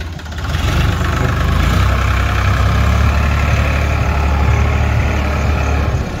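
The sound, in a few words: tractor engine running during soybean sowing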